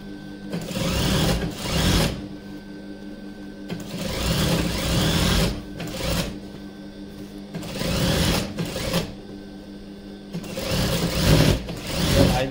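Sewing machine stitching a frill onto a petticoat, running in several steady bursts of rapid mechanical whirring separated by short pauses, close and loud.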